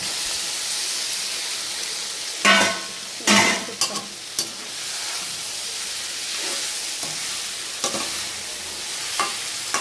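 Paneer goes into a simmering curry in a pan and is stirred, giving a steady sizzle under scraping spatula strokes, with louder clattering bursts early on and softer scrapes later.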